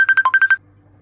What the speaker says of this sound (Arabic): الموبايل كل شوية ويدق ويطفى التصوير